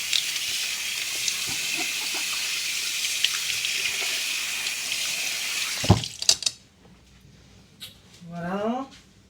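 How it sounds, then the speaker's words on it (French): Hands are rinsed under a running tap, a steady loud water hiss for several seconds that then cuts off, leaving a few drips and small handling sounds. "je me rince les mains"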